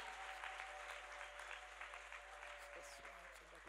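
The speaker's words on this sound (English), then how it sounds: "Clap for Jesus." A church congregation claps together, a soft, steady patter of many hands heard from some distance, with a faint tonal hum running underneath.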